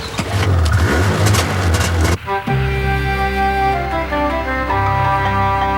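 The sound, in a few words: snowmobile engine driving in the Arctic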